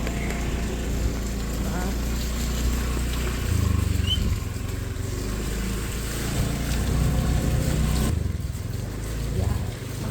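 A motorcycle riding along a rough rural road on the way to a meal, its steady engine drone continuous and close throughout, with wind and road rumble mixed in.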